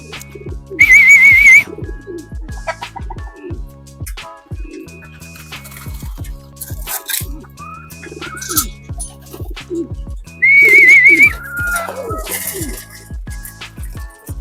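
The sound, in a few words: racing pigeon on a roof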